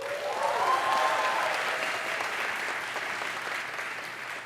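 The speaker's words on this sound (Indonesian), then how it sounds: "Tepuk tangan untuk Georgetown Uni." Audience applause at a public lecture at Georgetown University in Washington, D.C., a broad sustained clapping from a large hall crowd, steady and slightly distant, gently fading toward the end.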